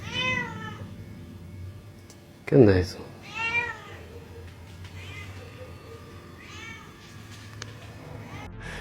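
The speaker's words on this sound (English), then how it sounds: "being woken up by a cat crying is not one of them" A cat cries loudly at night near a campsite, with several drawn-out wailing meows and one sharp, loud yowl, while a person speaks briefly in between.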